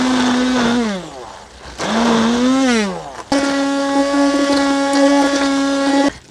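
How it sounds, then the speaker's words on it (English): A loud immersion blender whirs continuously, its motor pitch dipping and rising as it churns through thick homemade spaghetti sauce, then settling into a steady high whine. "we should be able to blend it up with our immersion blender"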